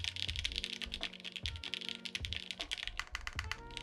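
Close, crisp typing on a Savage 65 mechanical keyboard with Gateron CJ switches, a flex PCB and GMK Godspeed keycaps: quick irregular keystrokes with clacky bottom-outs and the occasional deeper thock of a larger key, with no voices.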